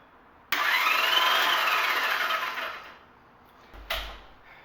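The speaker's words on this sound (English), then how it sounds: "I'm going to hit the starter button." On a Honda Baby Dream motorcycle, an electric starter whirs and cranks for about two seconds then winds down without catching, followed by a brief second burst; close and fairly quiet, no talk.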